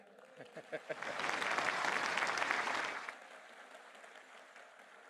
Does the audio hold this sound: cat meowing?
no